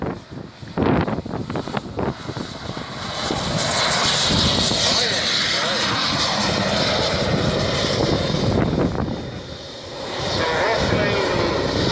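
An Avro Vulcan bomber jet makes a flyby at the Elvington airfield, its engine roar swelling into a loud, sustained rumble with wind buffeting the microphone, while a few faint voices are heard at the start.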